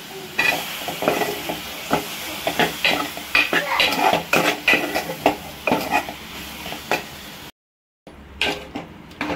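Tomatoes sautéing with ginger garlic paste and potatoes in a pan, a close sizzle with repeated sharp scrapes and clinks of a spoon stirring against the metal, one short silent gap near the end.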